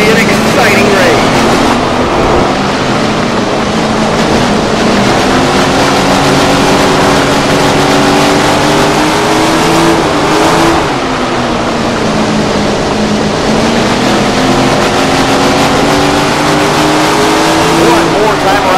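Sprint car engines roar continuously around a dirt oval in Tony Stewart's Sprint Car Racing video game, a loud, steady multi-car drone with rising and falling pitch as the cars circle, under occasional speech.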